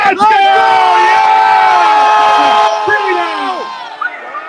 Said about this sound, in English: we're going to cheer so that he can hear you on the beach